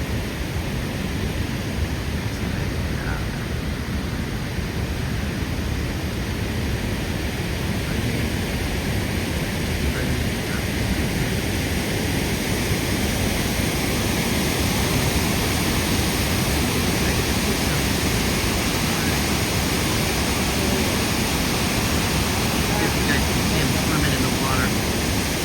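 Feather River water rushes in a steady, broad, unbroken roar at a salmon hatchery, loud and constant with no clear breaks.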